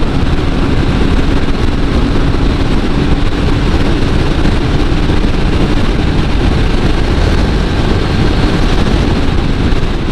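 A Honda PCX 160 scooter on a test ride gives a continuous loud roar dominated by wind buffeting and road rush, with the engine buried beneath a steady broadband blast throughout.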